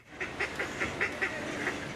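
Small ducklings quacking outside a shop in Venice, a quick run of about eight short, evenly spaced calls, fairly close and clear over light ambient noise.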